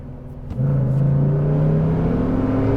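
A Ford F-150 Raptor V8 pulls under hard acceleration with paddle-shifted gears, its engine note jumping up after a short lull and then holding a loud, steady rising drone close by.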